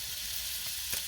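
Onion hitting a hot stainless steel pan, giving a steady soft sizzle of frying with a small crackling burst near the end, with no talking.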